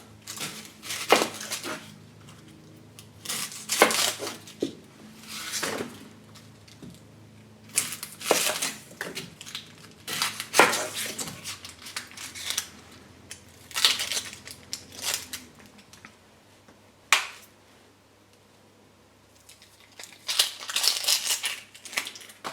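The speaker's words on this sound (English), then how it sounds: "It's a nice quick way to peel an onion." An onion is peeled and cut with a kitchen knife, giving close, irregular crackling, crunching and tearing bursts of papery skin and knife work, with short quiet gaps between them.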